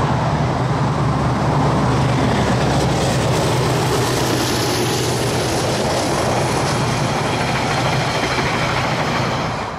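The Dunedin Railways Southerner excursion train, styled like a 1980s Southerner Express, speeds across the Selwyn River near Rolleston, New Zealand, in a loud, continuous close-up rumble and roar of wheels and engine that holds steady throughout.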